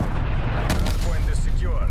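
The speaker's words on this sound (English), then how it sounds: "Net call, incoming artillery." Incoming artillery strike in Black Ops Cold War, heavy low rumbling blasts with a sharp crack near the middle, loud and booming under muffled game chatter.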